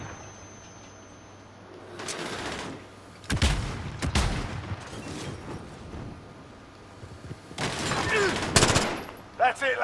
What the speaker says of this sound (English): That's his shootout, pink bullets.